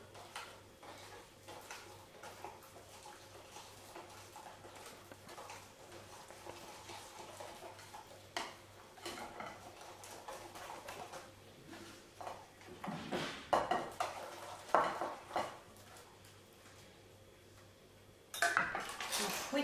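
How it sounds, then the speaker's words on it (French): A whisk clinks against a bowl as vanilla-infused milk is beaten into an egg yolk mixture for Swiss brioches, with a steady scraping rattle that grows busier and louder toward the end, plus a few clanks of kitchenware. "Vous fouettez le mélange."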